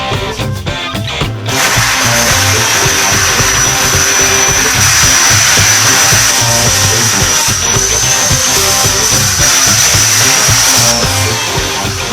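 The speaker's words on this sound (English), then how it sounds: "Piece of expanded steel all cut, it's ready to go and be fit into place." A power tool cuts expanded steel sheet for a homemade wagon frame, a loud continuous whine and grinding roar that starts after a brief rattle and stays harsh and close, with no talking.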